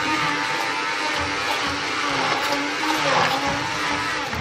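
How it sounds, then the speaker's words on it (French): A blender purees zucchini and potato soup, its steady dense whir running loud and continuous throughout with slight fluctuations. "Et maintenant, on va mixer le tout."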